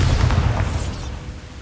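A Bombarda blasting spell detonates in the video game Hogwarts Legacy, one heavy booming explosion with a deep rumble that gradually decays over about a second.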